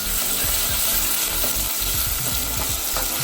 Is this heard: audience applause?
no